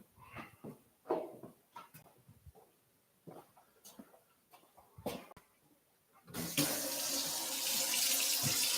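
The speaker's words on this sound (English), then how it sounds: "Can't hear because the water's running." A water tap gushes into a sink during handwashing, starting abruptly after a few seconds of quiet scattered knocks and faint sounds, then running loud and steady to the end.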